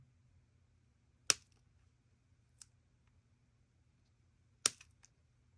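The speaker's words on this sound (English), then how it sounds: "That was definitely gunshots." Two sharp, distant gunshot cracks about three seconds apart, each followed by faint echoes, over a quiet low background hum.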